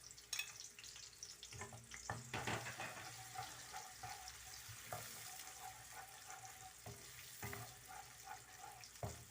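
Onions sizzle and hiss in a hot pan for dal fry, with occasional stirring clatters and splashy crackles, close and steady throughout.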